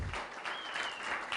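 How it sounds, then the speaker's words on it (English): Audience applause at a TEDx talk in Segovia, a steady, dense clapping from a full room that holds at an even level for the whole moment, with no voices over it. "I'll tell them that you applaud."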